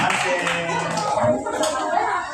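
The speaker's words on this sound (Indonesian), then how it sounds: "Kita kasih tepuk tangan untuk kelompok rumah." A grade three classroom claps for a student group in a short burst of applause, with children's voices mixed in.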